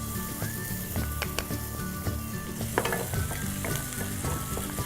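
Ginger fries in a little oil in a kadhai or wok, giving a close, steady sizzle with occasional sharper pops and stirring scrapes throughout.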